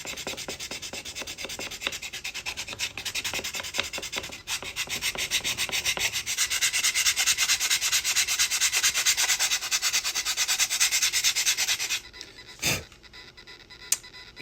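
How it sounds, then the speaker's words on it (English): Sandpaper rubbing steadily along the grain of a custom wooden body for an SCX24 crawler, a close, continuous rasping scrape with rhythmic strokes that thickens midway, then stops near the end before a brief bump. "I will always finish running the sandpaper with the grain."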